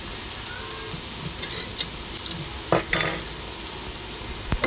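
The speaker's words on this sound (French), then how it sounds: "On va laisser bien cuire et on rajoute les petits pois." Vegetables fry gently in a pan, a soft, continuous sizzle heard close up, with a few brief clicks and scrapes of stirring partway through.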